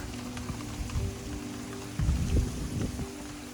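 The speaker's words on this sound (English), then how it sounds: "you can see rain that is sideways" Heavy rain blows sideways in Hurricane Hilary's tropical storm in California, a steady close hiss of drops with rumbling gusts that swell louder near the end.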